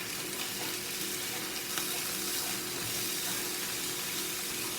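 Meat frying in a pan, a steady close sizzle and crackle that runs unbroken the whole time with no talk.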